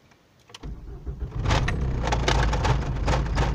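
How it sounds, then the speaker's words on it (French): Quiet at first, then a 1993–1996 Ford Mondeo engine cranks and catches, settling into a steady nearby rumble. "On va maintenant démarrer la voiture et voir ce qui se passe"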